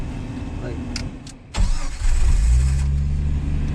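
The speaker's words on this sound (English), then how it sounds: "Start the car." A manual-transmission car's engine cranks over and catches, then settles into a loud, steady idle with a low rumble, following a couple of short clicks and some faint background noise.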